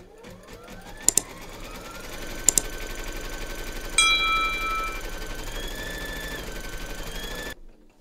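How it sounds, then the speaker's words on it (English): An embroidery machine stitches a securing outline through batting held in a hoop, with a steady rapid needle chatter and motor whine that rises in pitch. A few sharp clicks come early, and the run stops abruptly near the end. "Pop your hoop into your machine and stitch round number 2 to secure it"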